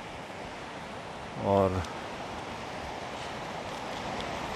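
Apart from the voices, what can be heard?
rushing mountain stream water near lake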